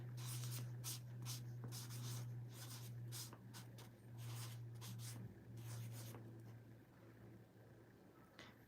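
A pen scratches across paper in repeated short strokes, close and fairly quiet, with a steady low hum running underneath.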